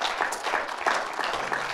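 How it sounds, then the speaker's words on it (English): Church congregation giving a big hand clap, a full, loud burst of many hands clapping together, brief and sustained without voices. "Let's give Jesus a great big hand clap."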